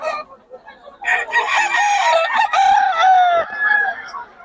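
A young rooster (stag) crows one long call at close range, its drawn-out cry rising and holding before trailing off, with a few quieter clucks and soft background sounds before it.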